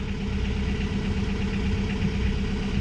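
A sailboat's inboard engine idles steadily, a continuous low mechanical drone with a faint knocking pulse and no break, heard close and alone.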